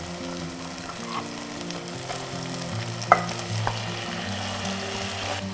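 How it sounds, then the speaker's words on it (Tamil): Marinated mutton frying in oil with softened tomatoes gives a steady close sizzle, with a couple of sharp stirring knocks against the pan. "இந்த ஸ்டேஜில் நம்ம மேரினேட் பண்ணி வச்சுருக்க மட்டனை போட்டுடலாம்."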